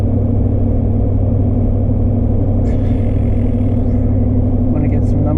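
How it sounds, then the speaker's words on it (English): Heard from the cab, a pickup truck engine tows an empty trailer with a loud, steady low drone and constant road rumble, and someone talks over it. "Towing the trailer right now."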